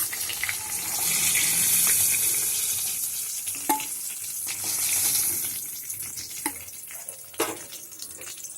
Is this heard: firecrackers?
no